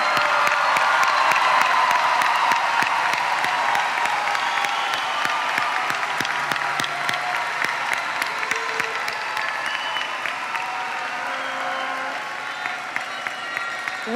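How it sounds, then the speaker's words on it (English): Graduation ceremony crowd applauding high school graduates, a broad, sustained wash of clapping with scattered cheers and whoops, gradually tapering slightly toward the end. "Let's give our graduates another round of applause."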